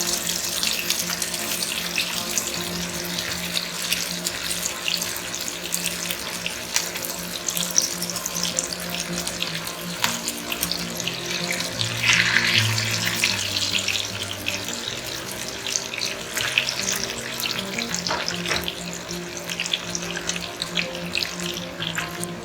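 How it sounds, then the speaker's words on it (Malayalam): Raw banana (green plantain) kebabs sizzle and crackle as they fry in hot oil, a steady, loud hiss that carries all the way through, with no one talking. "അപ്പോൾ എണ്ണ ചൂടാവുമ്പോൾ നമുക്ക് കബാബുകൾ ഇതിലേക്ക് ഒന്നൊന്നായിട്ട് ഇടാം."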